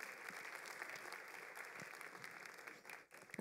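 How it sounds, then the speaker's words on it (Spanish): An audience at a Latin American digital payments panel applauds as the panelists come on stage, a steady wash of clapping that stays even for a few seconds and then fades out. "Un aplauso para ellos."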